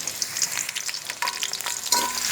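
Onion and garlic frying in a wok for a country-chicken curry, a steady close sizzle with crackling bursts and occasional stirring scrapes, with no voices.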